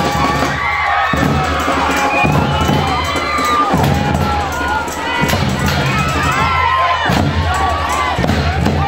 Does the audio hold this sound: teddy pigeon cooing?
no